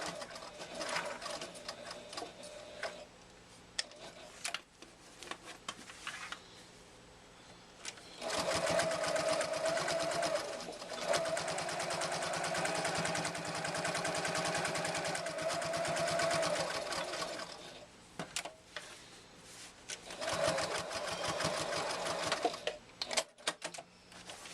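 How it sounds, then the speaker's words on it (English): Sewing machine stitching down the sides of a handmade fabric wallet, a steady close mechanical whir running in long bursts with short pauses between, no talking. "we're going to go and sew down the sides here."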